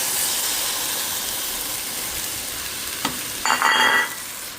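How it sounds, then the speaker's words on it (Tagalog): Ginger and tomatoes fry in a pan for corn and carrot soup, a steady, bright hiss of sizzling oil, close and even, with a sharp clink and a brief burst of louder sizzle near the end. "So now it's time to put the ginger and the tomatoes"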